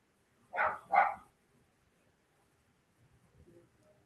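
A dog barks twice in quick succession at someone outside the front door, fairly close and loud, followed by quiet with faint low rustling.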